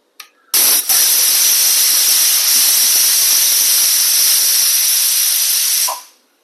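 A pressure cooker whistle blows one continuous, loud hiss of escaping steam on the stove for about five seconds, starting abruptly and then cutting off.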